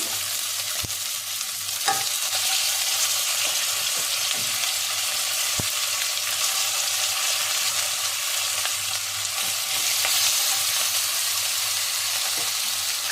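Chicken for chicken kabsa fries in a pan with a steady, bright sizzle that holds throughout, broken now and then by a few sharp knocks and scrapes of stirring, close by and with no talking.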